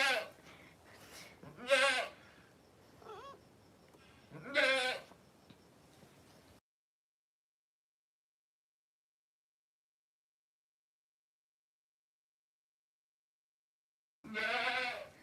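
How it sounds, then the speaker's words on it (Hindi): Baby goats bleat in several short, close, wavering cries, then fall silent for a long stretch before one more bleat at the end. "देखो हमारी बकरी के बच्चे देखे।"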